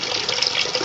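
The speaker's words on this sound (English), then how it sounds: "There's your hot water coming out there." Hot water runs from a tap in a steady, hissing splash, close and even throughout the brief moment, with no talking.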